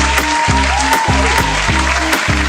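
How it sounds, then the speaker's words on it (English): Studio audience applause on a talk show, a continuous even clapping heard under a steady musical beat. "Give them a round of applause."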